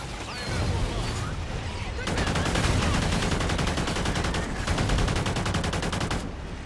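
Rapid automatic gunfire in the video game Call of Duty: Ghosts, Extinction alien mode, loud sustained bursts with brief breaks between them, under faint player chatter.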